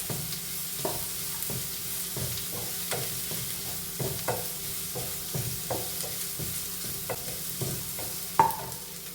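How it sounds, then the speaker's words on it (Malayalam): Grated coconut frying in hot coconut oil while being stirred, a steady close sizzle broken by repeated soft scraping strokes of a spoon through the pan, with one sharper clink near the end. "കുറച്ച് നാളികേരം ഇതാണ് നാളികേരവും ഈ വെളിച്ചെണ്ണയ്ക്ക് കിടന്നൊന്ന് വറവായിക്കോട്ടെ"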